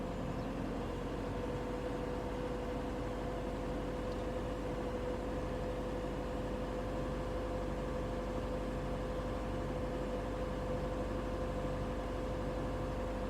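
The engine of a 2007 PT Cruiser is held at 1,500 RPM, a steady low hum with a constant tonal whine, unchanging and fairly quiet throughout with no talking.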